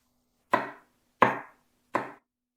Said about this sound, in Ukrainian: я акуратно очищаю болгарський перець, наприклад, червоний або жовтий, і так само нарізаю його великими кубиками